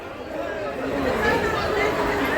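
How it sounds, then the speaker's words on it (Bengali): Passengers waiting for a train to Digha crowd a railway platform, their overlapping voices forming a continuous, fairly loud babble with no single speaker standing out. "আর দীঘা যাওয়ার প্যাসেঞ্জার সব এখানে ভিড় করেছে"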